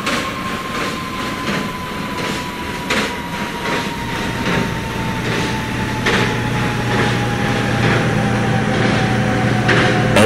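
A New York subway train on the Q line rumbles along the rails, with a steady clickety-clack rhythm and a slowly falling whine as it runs.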